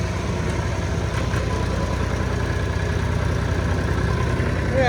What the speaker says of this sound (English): I'm going to use this tractor to get the little wagon out.